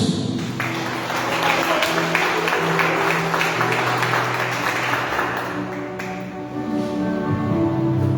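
A church congregation claps steadily for several seconds in a dense, sustained wash of applause over held musical tones, dipping briefly before continuing.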